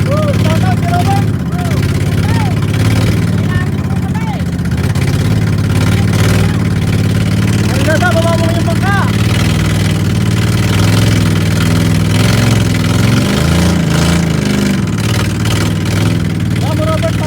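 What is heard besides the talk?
double piston boat engine being test-run, idling and revving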